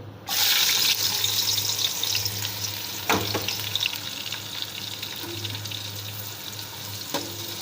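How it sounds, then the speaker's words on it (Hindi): Chopped onions hit hot oil in a pot and break into a loud, continuous sizzle that settles into a steady frying hiss, with a couple of brief clinks of a spoon; no talking. "ये देखें, अब ये मैं प्याज डाल रही हूँ इसमें।"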